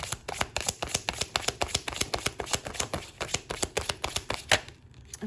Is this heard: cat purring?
no